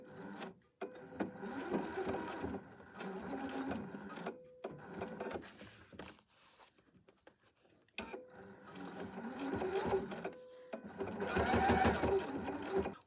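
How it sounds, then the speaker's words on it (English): A sewing machine with a zipper foot top stitches a fabric zipper pouch, running in fast rhythmic bursts with short pauses between runs, close and clear, with no talk. "I make the top stitching at the end of the zipper, that means at the opposite side of where you have the slide"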